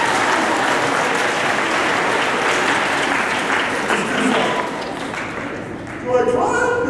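A school audience claps together in a dense, sustained roar of applause that fades toward the end, giving way to scattered voices.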